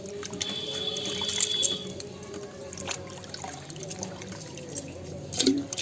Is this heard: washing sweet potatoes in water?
yes